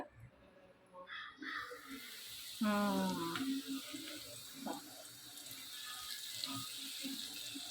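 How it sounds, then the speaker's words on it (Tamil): Hot oil hisses and sizzles loudly as it is poured over chillies to make chilli oil, a bright crackling burst that settles into a steady, quieter fizz with some clinks. "இப்போ அந்த எண்ணெயை கொதிக்க கொதிக்க அப்படியே இதில் ஊற்றிடுவியா?"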